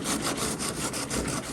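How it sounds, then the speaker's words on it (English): Sandpaper rubs over a gel-coat repair on a Placid Boatworks Rapidfire canoe in quick, even back-and-forth strokes, close and rasping with a steady rhythm. "So the dripping that happened definitely causing me some extra sanding."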